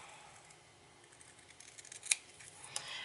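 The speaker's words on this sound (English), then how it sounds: "I'm just going to take my scissors and just cut right underneath" A few quiet snips of scissors cutting paper, close by, in an otherwise hushed room.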